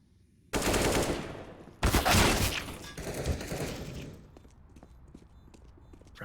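Bursts of AK rifle fire in a video game, a loud rapid burst followed by a second heavier volley, then scattered shots and echoing tails fading out.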